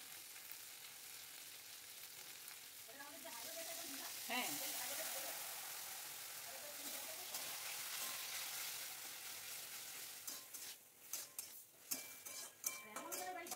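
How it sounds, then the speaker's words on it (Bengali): Turmeric, Kashmiri chilli powder and salt are stirred in a pan for a pointed gourd and prawn dish, a soft sizzle under gentle scraping, with sharper metal clinks of spoon against pan toward the end. "এই কয়েকটা মশলা দিয়ে আমি ভালো করে একটু নাড়াচাড়া করছি।"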